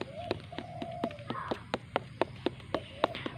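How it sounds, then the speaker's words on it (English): A stick knocks repeatedly on a ripe pineapple of about two to three kilograms, giving a quick series of hollow taps at a fairly regular rhythm, with birds calling faintly outdoors in the background. "you just knock on the pineapple"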